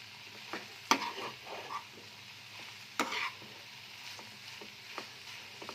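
Soya chunks and potatoes fry in a pan and are stirred, with a soft continuous sizzle punctuated by a few sharp spatula scrapes and clacks, close-up and without voices.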